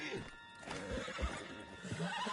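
A horse in Red Dead Redemption 2 on PS5 whinnies close by, a shrill wavering neigh, with some hoof clops and shuffling underneath.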